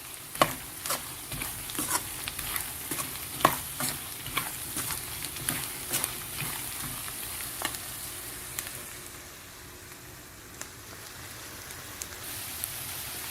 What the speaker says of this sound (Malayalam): ഇനി നന്നായി ഒന്ന് ഇളക്കുക